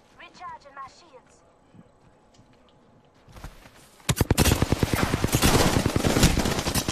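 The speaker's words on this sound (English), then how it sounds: "They'll never shoot through these." Dense rapid gunfire erupts in a video game shooter, loud sustained automatic bursts following a few seconds of someone talking and a brief quiet lull.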